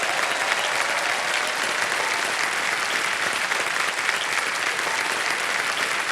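Studio audience on a televised quiz show, Kaun Banega Crorepati season 15, breaking into loud, sustained applause that fills the whole stretch at an even level with no voices over it.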